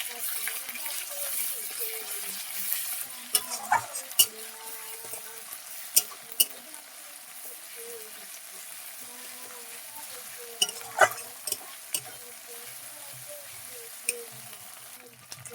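Ground ginger, garlic and cumin paste with finely chopped onion frying in a pan: a steady low sizzle broken by scattered sharp clicks and scrapes of stirring, close by.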